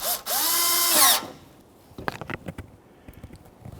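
A power drill runs in one steady, loud burst of about a second, driving small Phillips screws to attach the lower bumper to the shield on a 2005-2021 Nissan Frontier, followed by a few light clicks and taps.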